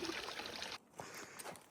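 Water flowing at a trail water source along the Appalachian Trail, a close, steady trickling stream that stops abruptly partway, followed by quieter, scattered splashing.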